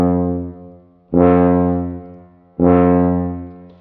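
Tuba notes started with breath alone and no tongue, two low sustained tones each swelling in softly and fading, heard close and alone with rich low harmonics.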